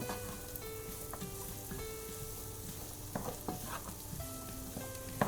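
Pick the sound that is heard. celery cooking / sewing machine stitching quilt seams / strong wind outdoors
celery cooking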